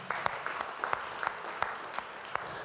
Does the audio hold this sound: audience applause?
yes